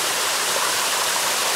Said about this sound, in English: the water is piping hot, coming down as a river